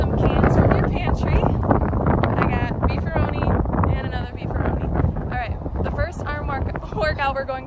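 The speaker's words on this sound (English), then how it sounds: "It's really windy out" Strong outdoor wind buffets the microphone in low, continuous roaring gusts while a person talks over it throughout.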